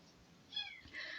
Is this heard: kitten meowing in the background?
yes